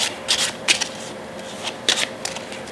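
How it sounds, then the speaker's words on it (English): Playing cards are shuffled close by, a series of crisp riffling bursts separated by brief pauses, with no voices. "And these would get shuffled."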